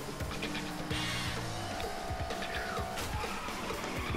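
Car drifting in the Table Top Racing video game, with steady engine drone, a sustained tire-skid squeal and a few sharp crashes and knocks, loud and continuous throughout.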